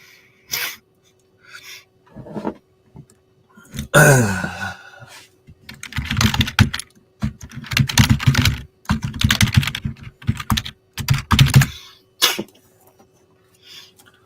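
Computer keyboard typing and mouse clicking in bursts of rapid, fairly close keystrokes, with breaths and a brief sneeze-like sound between them and no clear talk.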